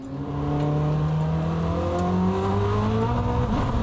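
A hypercar, a Koenigsegg, Rimac or Hennessey street car, pulling away with a loud steady engine drone that climbs through rising tones as it accelerates, sustained and close.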